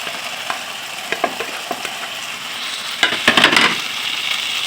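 Vegetables such as carrot, onion, spring onion, capsicum and cabbage stir-fry with soy sauce for chicken chow mein, a steady close hiss with scattered utensil clicks, then a louder crackling burst of sizzling near the end.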